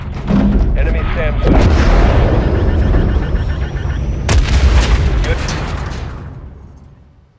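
Missile strikes hit an enemy SAM site in Call of Duty MW3: heavy booming blasts and rumbling artillery-like explosions roll loudly, with a sharp second impact midway before the roar fades out.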